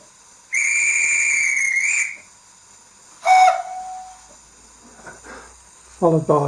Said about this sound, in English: if we press F11, we get the guard's whistle followed by